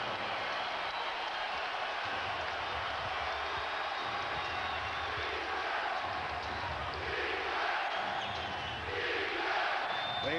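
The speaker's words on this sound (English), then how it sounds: "A chant of defense by this capacity crowd at Staples" A capacity basketball crowd at Staples Center chants defense during a Spurs at Lakers playoff game, a dense, steady roar of many voices with rising surges.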